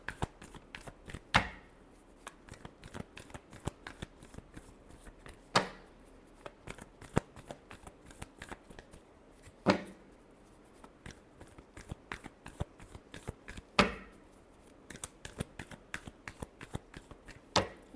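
Tarot cards are shuffled by hand in a quiet room: soft, rapid riffling and flicking runs up close, broken by sharper slaps every few seconds.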